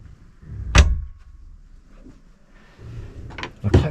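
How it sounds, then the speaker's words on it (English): A cabin door on a Fairline Targa 38 motor boat bumps shut with a sharp knock, followed by quieter shuffling and two more quick knocks as it latches. "I'll close this door for a moment."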